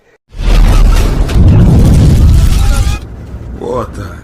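A loud, deep boom of a tank shell explosion bursts out and rolls on as a heavy rumbling roar, fading into crackling debris and a whooshing tail.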